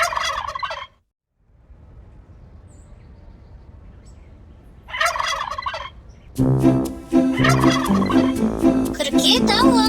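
A turkey gobbles in a short burst, falls quiet, gobbles again, then breaks into a longer, louder run of gobbling that continues to the end.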